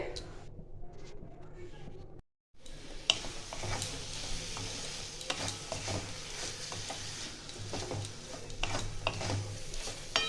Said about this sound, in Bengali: এইটা তিন চার মিনিট ভালো করে নাড়িয়ে চাড়িয়ে নিতে হবে যাতে চিনিগুলো গলে যায়